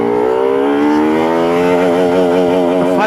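A Bajaj RS 200 motorcycle, eight years old, accelerates hard in first gear, its engine note climbing steadily in pitch as it revs up, loud and close with no talking.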